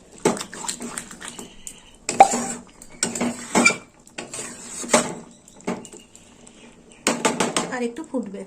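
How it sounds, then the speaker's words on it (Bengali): Curd-based mixed vegetable curry stirred in a pan, with repeated clattering bursts of a spoon scraping and knocking against the metal, separated by short quiet gaps. "এবার আমি ভালো করে নেড়ে চেড়ে নেবো।"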